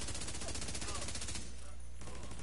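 Video game gunfire in dense, loud bursts of rapid automatic shots. The shooting fills most of the moment, then briefly thins before resuming.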